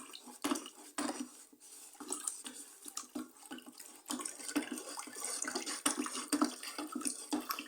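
Pine oil being stirred into about two liters of oil for homemade bar soap, giving close, irregular clinks and scrapes of a utensil against a container with some wet sloshing, with no talking.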